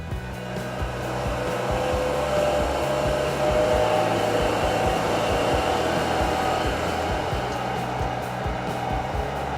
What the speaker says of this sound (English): Power rollers move the wood through the machine.